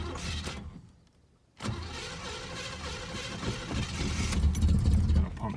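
A 1983 Oldsmobile Cutlass Supreme Brougham's engine with a Quadrajet carburetor and a badly adjusted choke runs at a high idle, a steady rumble close by that briefly drops out before resuming and swelling slightly.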